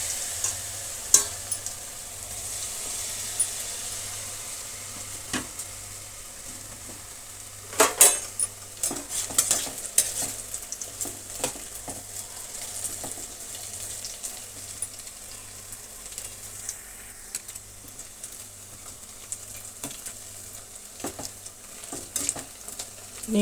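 Cauliflower (gobi) pieces deep-fry in hot oil with a continuous bubbling sizzle, while metal utensils clink and scrape against the pan at irregular intervals.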